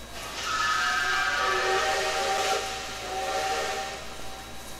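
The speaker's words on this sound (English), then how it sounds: "it's kind of cool to have that secondary whistle" A steam whistle on a CN S1b 2-8-2 Mikado locomotive in Trainz 2019 sounds one sustained, hissing chime tone that swells, dips slightly and trails off, with no one talking.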